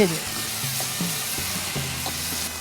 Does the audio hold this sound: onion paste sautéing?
yes